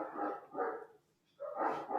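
A dog barks indoors in a room, with three loud, close barks in quick succession.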